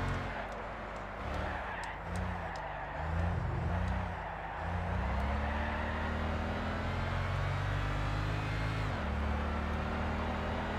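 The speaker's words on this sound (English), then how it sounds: "The amount that that car goes down in revs whenever you change gear from second to third is ridiculous." Racing car in Gran Turismo 6 revving steadily, with engine pitch dropping sharply on gear changes from second to third, a loud continuous drone with harmonic sweeps and a few brief clicks.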